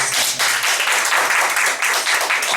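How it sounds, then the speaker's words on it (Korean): A church congregation claps in dense, sustained applause, steady and fairly loud, with no voices standing out. "우리 먼저 하나님께 영광의 박수 올리겠습니다"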